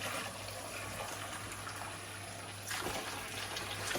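Rice being rinsed in a bowl of water to wash off the starch, giving a steady close watery swish and trickle with a louder slosh near the end.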